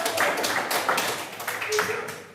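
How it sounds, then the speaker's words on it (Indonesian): A classroom of students claps hands together on cue from the teacher, a rapid, dense patter of claps from a nearby group with a faint voice in the background. "tepuk tangan dulu"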